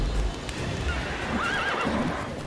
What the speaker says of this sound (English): Get on the horse, Geralt.